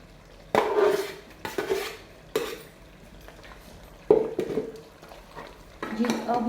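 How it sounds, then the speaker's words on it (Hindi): Ground masala being stirred into fried goat trotters (paya) in a metal pot, giving several separate bursts of scraping and clinking that stop and start, close and moderately loud. "जी अब हम इसे मिक्स करेंगे, अच्छी तरह से मिक्स करेंगे ये जो हमने मसाला रखा हुआ था।"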